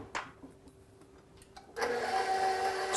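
An electric hand mixer stirs banana muffin batter with chocolate chips: after some quiet kitchen shuffling it whirs up abruptly and keeps running as a steady, close motor drone.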